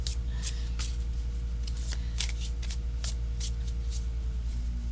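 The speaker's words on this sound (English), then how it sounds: "I'm going to do one more riffle." Crisp, rapid flurries of tarot cards being riffle shuffled, several quick bursts close by over a low steady hum, with no talking.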